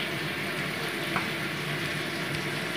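Hilsa fish heads fry in hot oil in a wok with panch phoron, dried red chilli and crushed ginger, giving a steady close sizzle and crackle throughout.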